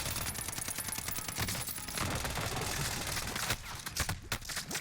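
Rapid automatic gunfire in the video game Warzone rattles almost continuously in dense bursts, loud and close, with overlapping shots and no clear speech.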